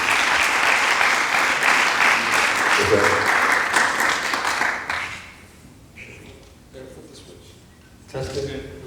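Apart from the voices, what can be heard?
audience applause welcoming speaker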